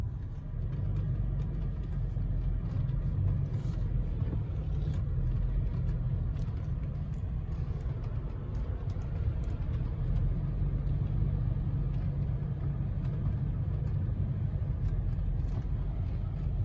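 A four-wheel-drive vehicle idles slowly along a dirt road, its engine a steady low rumble heard from inside the cab, even and moderately quiet for the whole stretch with no talk.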